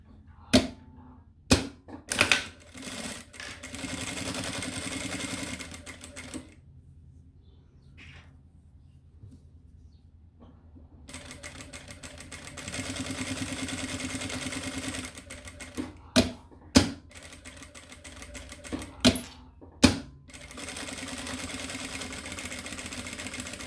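A sewing machine topstitches both sides of a small fabric mini backpack, with long runs of fast steady mechanical whirring, a quiet pause between stitching passes, and sharp clicks and thumps as the fabric is handled, no talking.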